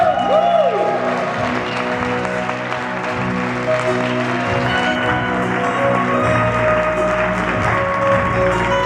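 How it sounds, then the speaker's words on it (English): An audience applauds steadily and loudly at a live Hawaiian hula performance, with continuous clapping under background music and some crowd noise. "Give her a nice round of applause."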